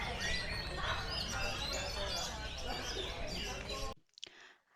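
Crowded songbird chatter fills an Indonesian singing bird competition, dense overlapping chirps and trills with a noisy crowd underneath, then a sudden drop to near quiet with a few faint chirps.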